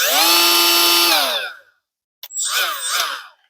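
A Milwaukee M12 Fuel die grinder at its top speed of 24,500 RPM screams up to a loud, close, high whine and winds down, then after a short pause runs again in a second burst.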